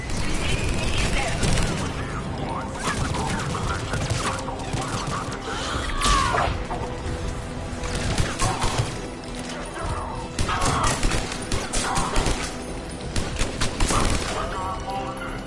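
Gunfire crackles through a Mass Effect 3 battle at a checkpoint, with repeated bursts and sharp impacts over a dense combat din while voices call out between shots.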